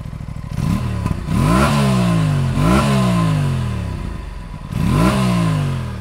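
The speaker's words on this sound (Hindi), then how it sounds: "पहले आइडल पे आपको मैं इसका एग्जॉस्ट सुनाता हूँ।" An Aprilia RS 457 parallel-twin motorcycle with an underbelly exhaust idles, then is blipped through about four loud, sharp revs that rise and fall back. It is recorded up close with no talking.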